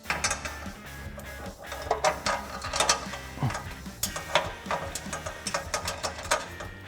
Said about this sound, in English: So let's put that back up using the factory hardware and our 13mm socket.